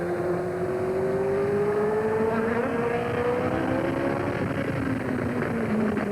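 A Formula 1 car at Monaco runs in third gear past the tabac after the chicane, its engine a loud, steady high whine whose pitch slowly rises and then falls as it goes by.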